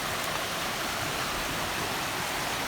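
A mountain creek on a North Carolina trail, its flowing water a steady, close, even rushing hiss with no break or voices over it.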